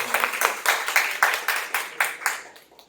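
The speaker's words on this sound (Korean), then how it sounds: "양미현 교감선생님을 박수로 맞이해 주시면 감사하겠습니다." An audience at a Korean reading and debate contest applauding to welcome a speaker, with steady rhythmic claps that gradually fade toward the end.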